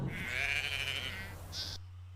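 Sheep in Wales give a single drawn-out bleat followed by a short higher call, heard moderately close against a steady low hum before cutting off.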